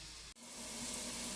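Onions and garlic sauté in a pan with a soft, steady sizzle, broken by one tiny gap, over a brief moment with no voices.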